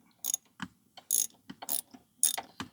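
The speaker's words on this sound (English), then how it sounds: "you're going to go ahead and ratchet that baby back in there like that" Hand ratchet tightening a spark plug on a 2020 John Deere Gator XUV 590M, a series of crisp, close clicking bursts in an uneven rhythm, quiet between strokes, with no talk.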